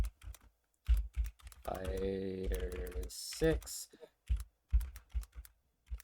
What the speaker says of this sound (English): I apologize if you can hear some typing.